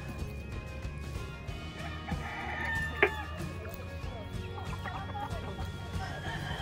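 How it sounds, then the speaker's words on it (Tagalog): Chickens and a rooster on a farm cluck and call over a steady outdoor background, with a brief louder squawk midway, fairly close and continuous. "Oh, hi chickens."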